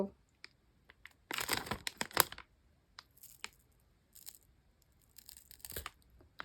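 A Dairy Milk chocolate bar is torn apart by hand with close, crisp bursts of crackling and tearing wrapper, in short clusters separated by quiet pauses.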